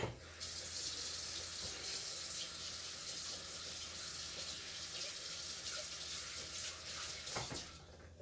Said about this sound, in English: I'm going to go ahead and wash this spoon off though